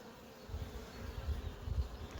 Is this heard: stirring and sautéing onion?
no